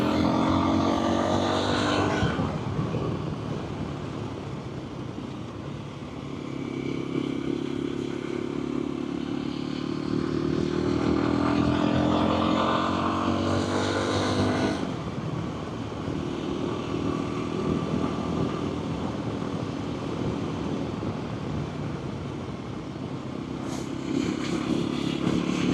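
An off-road motorcycle is ridden on a mountain trail, its engine droning steadily and close throughout, surging and easing in pitch with throttle changes, and there is no talking.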